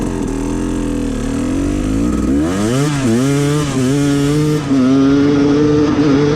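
Two-stroke dirt bike engine idling without throttle, a close, loud, buzzy running tone that wavers and settles into a steady warble after a brief rise and dip in pitch.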